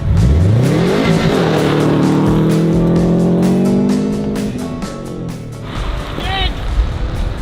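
A Subaru fitted with saw-blade wheels revs and accelerates on a frozen lake, its engine loud and close with rising, strained harmonics for several seconds before backing off, followed by a brief high squeal.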